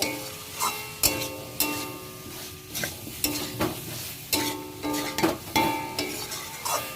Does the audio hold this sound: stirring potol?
yes